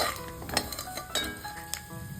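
Peanuts frying with mustard seeds in hot oil in a pan, a close steady sizzle with scattered crackles and pops and a few stirring scrapes and clinks of a utensil against the pan.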